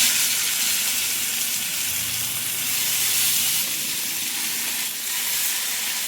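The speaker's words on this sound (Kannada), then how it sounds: "ಇವಾಗ ಒಂದೊಂದೇ ಫಿಶ್ ಹಾಕಿ ಫ್ರೈ ಮಾಡ್ತಾ ಹೋಗೋದು." Pomfret fish frying in oil on a large tawa over a low gas flame, an even, loud, close sizzle that runs unbroken throughout.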